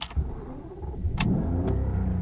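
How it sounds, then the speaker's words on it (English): A BMW 750iL Individual starts up: a few sharp clicks, then the engine catches and settles into a steady low rumble, close and alone. "Starting the vehicle, it's an absolute beast of a car."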